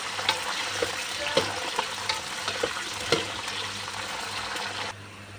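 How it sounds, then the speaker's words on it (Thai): Wet peanuts frying in hot oil make a constant close sizzle and crackle, broken by periodic scraping stir strokes, with a faint low hum beneath. "น้ำมันร้อนๆเราก็ลงไปทอดไปทอดเลย"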